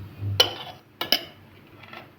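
A metal spoon clinks sharply against a pan of hot oil as a spoonful of turmeric goes in for a boiled gunda pickle, two or three bright strikes close by, then quiet sizzle.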